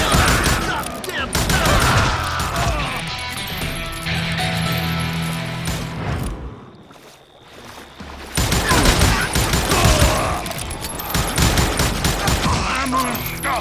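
Dense rapid gunfire in Call of Juarez: Gunslinger, loud and close, with bursts of shots rattling on, a brief lull midway, then heavy firing again.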